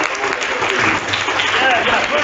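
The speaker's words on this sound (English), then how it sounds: "So give them a huge round of applause" A quick burst of loud audience clapping for quiz teams at a zonal quiz competition, steady and close, with some voices mixed in under the applause.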